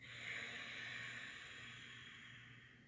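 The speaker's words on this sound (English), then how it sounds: "Ujjayi breath." Slow, steady Ujjayi breath drawn through the nose, a soft continuous hiss that swells and then gradually fades over a few seconds, close and quiet with no talking.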